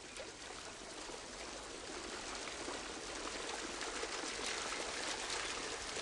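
Water flowing at a dam on the Kaveri river makes a steady, full-bodied rush that holds at an even loudness and swells slightly toward the end, with no voices over it.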